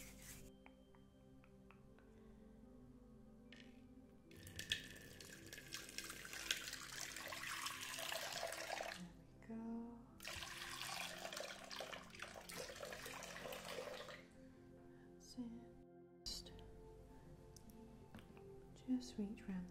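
Water runs from a salon tap as hair is rinsed, a steady broadband rush that starts and stops in two long bursts with pauses between, fairly close, with a soft voice talking in the quieter gaps.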